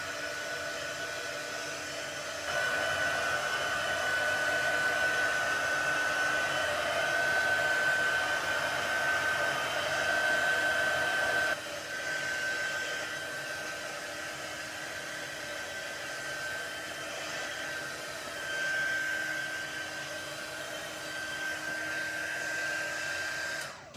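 A hair dryer runs steadily for about 24 seconds to dry a first layer of acrylic ink painting, a constant loud whirring blow with a brief dip in level partway through and no talking.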